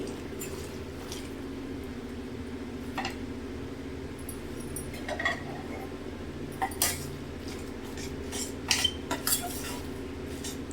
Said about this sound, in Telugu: వంకాయని మెత్తగా కొంచెం ముక్క చెక్క అయ్యేలాగా నలుపుకోవాలండి